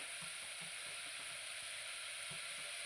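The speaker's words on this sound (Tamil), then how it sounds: "நம்மளோட இறால் நல்லா வதங்கியாச்சு" Prawns sautéing in a pan for a prawn, drumstick and mango kulambu give a faint, steady sizzling hiss that stays even and unbroken throughout.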